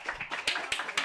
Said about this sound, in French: je propose qu'on l'applaudisse bien fort.